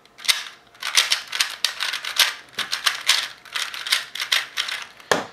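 A speed cube (Rubik's cube) with slightly loose tension is turned quickly, giving a dense run of crisp plastic clicks and rattling snaps in uneven bursts, close and fairly loud, with no voices.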